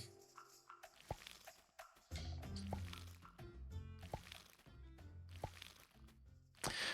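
Crops being watered in the farming video game Sun Haven, soft splashy liquid pours and drips repeating several times over quiet game ambience and light music, with no speech.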